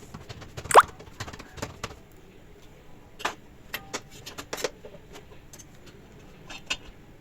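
Hands pat and slap pearl millet flour bhakri dough, making irregular soft, close plops and taps in a quiet setting.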